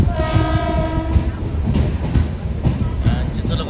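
A MEMU passenger train pulling into Chittoor station, a loud close rumble with clattering wheels and a sustained horn tone near the start, with no talk.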